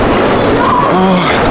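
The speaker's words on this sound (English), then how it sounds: "Oh wait, that's my train." Train pulling into a station on a European rail trip, a loud continuous rumble with rising and falling squeal tones over about a second and a half, close by, with a brief voice over it.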